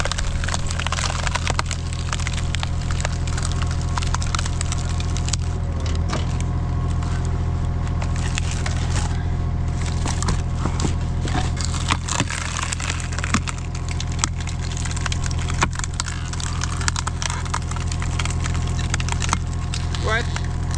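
Firewood is split by a machine, with sharp wood cracks and splintering snaps over a continuous loud engine rumble.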